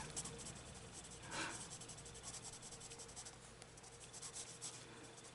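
Coloured pencils scratch steadily across adult colouring book paper in a quiet, close, continuous rustle, with small strokes and one brief louder scrape.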